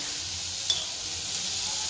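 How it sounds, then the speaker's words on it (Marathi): A pot of water boils with pasta added in a home kitchen, a steady close bubbling hiss with one small clink near the start. "इकडे पाणी उकळते आणि आपण टाकलेले हे पास्ते पण"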